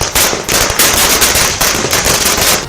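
Dense, rapid crackling of firecrackers at a BJP election victory celebration, a loud, continuous rattle of bursts close by with no break.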